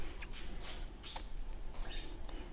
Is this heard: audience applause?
no